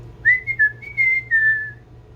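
A person whistles a short, clear, tuneful phrase of a few sustained notes, alone and close against faint background hum.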